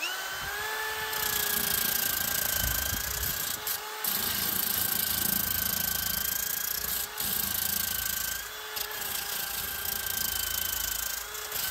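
Power drill running at a maximum speed of 2000 rpm while drilling, a steady loud whine with strong tonal harmonics and brief dips as the load changes, close by with no talking.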